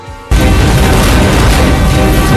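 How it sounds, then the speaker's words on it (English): A sudden loud blast from explosives breaching a dam erupts after a brief quiet moment, followed by a sustained roaring rumble that fills the rest of the clip. "With the sound of explosions, a hole was blasted in the dam."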